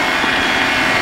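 A microlight aircraft engine runs at full power on takeoff, a loud, steady, close droning roar throughout.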